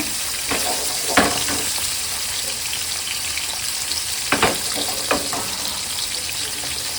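Puti fish frying in hot oil in a pan produce a continuous, close, even sizzle, with a few sharp knocks and spatula taps scattered through it.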